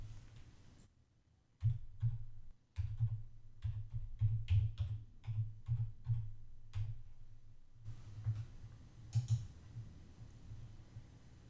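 Someone types on a computer keyboard, producing quiet, close, irregular key clicks in short runs with a brief gap between bursts.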